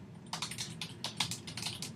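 Typing on a computer keyboard, a quick, close, fairly quiet run of clicking keystrokes in an irregular rhythm, with no voices.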